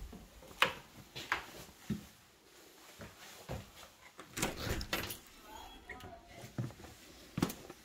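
An interior door leading to a house's two-car garage opens with scattered clicks, knocks and thumps, each fairly close, while faint voices murmur in the background.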